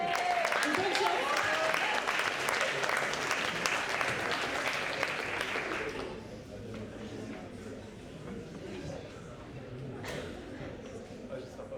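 Applause from an audience at a talent show gig, loud and dense for about six seconds before dropping to a quieter crowd murmur with some voices.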